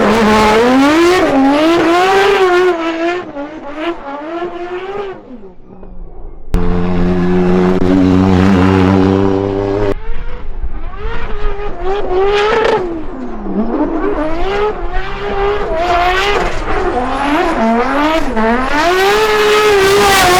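A 1000 HP BMW E36 race car screams around a track, its engine rising and falling through loud aggressive revs and shifts, with a steady high-pitched drone in the middle before hard acceleration resumes.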